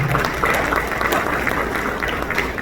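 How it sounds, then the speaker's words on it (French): An audience at a Haitian diaspora national day event applauds a chef, producing a brief, steady wash of clapping from a full room. "Merci de l'applaudir."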